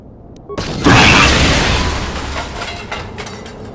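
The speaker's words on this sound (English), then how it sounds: "Hopefully the explosion kills you" Rigged droids exploding in Star Wars: Knights of the Old Republic, a single loud, sharp blast that rolls into a long fading rumble.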